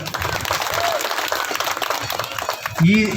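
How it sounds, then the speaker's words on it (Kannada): An audience at a spiritual discourse claps together in a dense, continuous patter, with voices carrying over the applause throughout. "ಮತ್ತು ಒಂದು ಸಲ ಚಪ್ಪಾಳೆ ತಟ್ರಿ"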